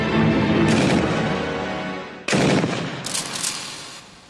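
A 12.7 mm KORD heavy machine gun fires at a shooting range, with loud booming bursts and reverberant rolling echoes, a second burst starting sharply midway and trailing off.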